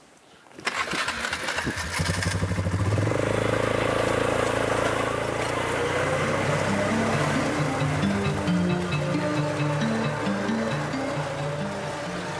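A four-wheeler ATV engine roars up close on an Ozarks gravel road near Mulberry Valley Falls in Arkansas, with a steady droning hum and wind rush that shifts pitch as the vehicle moves.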